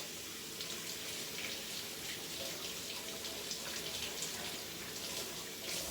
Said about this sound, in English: Let's wash the carrots.